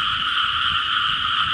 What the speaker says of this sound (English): Or toad, whatever they are, frogs I guess.